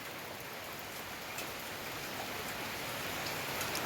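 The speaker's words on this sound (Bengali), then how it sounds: "প্রচণ্ড বৃষ্টি। সকাল থেকে, সকাল প্রায় 5টা থেকে 6টা পর্যন্ত বৃষ্টি স্টার্ট হয়েছে" Steady heavy rain pours down, a dense, continuous hiss of drops drumming on surfaces with no voices.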